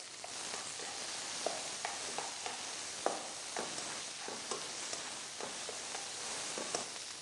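Onion, bay leaf, ginger and garlic fry in a pan with a soft, steady sizzle. Scattered faint scraping sounds come from stirring, and no one speaks.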